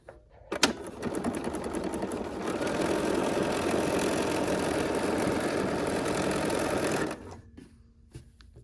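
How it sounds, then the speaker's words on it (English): A sewing machine stitches steadily with its presser foot lowered, running as one continuous close whir for about six seconds before stopping, with no one talking. "Lower our presser foot and stitch."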